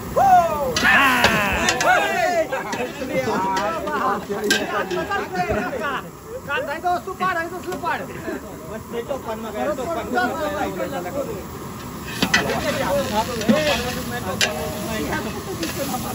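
Chicken sukka with onion sizzles loudly in a large batch for a 10 kg chicken party, steady frying hiss with scraping stirs throughout, under lively nearby talk and chatter.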